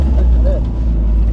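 A speedboat engine runs with a loud, steady low drone and rumbling wind buffeting on a sea crossing near Maheshkhali Island, Cox's Bazar, with a brief voice over it.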